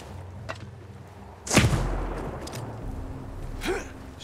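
A sniper rifle shot in the Ghost Recon Breakpoint video game lands as a sharp crack and thud midway, followed by a softer second report, over quiet ambient game sound.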